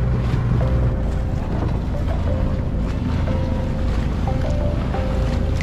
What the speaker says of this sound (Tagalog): Test drive ng ating bangka.